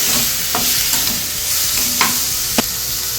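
Three medium-size chopped tomatoes fry and sizzle in a pan for a Chettinad chicken curry, a steady close hiss with a few soft stirring scrapes and no talk.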